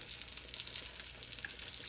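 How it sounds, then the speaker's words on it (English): Japanese croquettes sizzle in a pan of oil for home-made croquette curry, a steady bright hiss with crackling spatters running evenly throughout, close and fairly quiet, with no voices. "if you're frying stuff in oil like this"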